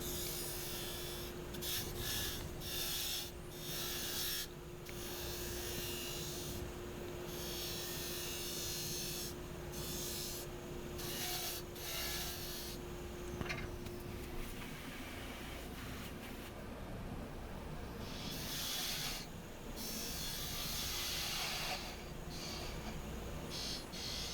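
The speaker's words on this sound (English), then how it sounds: "I'm using the spindle gouge for this" Spindle gouge cutting a maple burl lidded box spinning on a wood lathe at about 2,500 rpm, giving a steady, continuous rasping scrape with a constant motor hum beneath, close and fairly loud throughout.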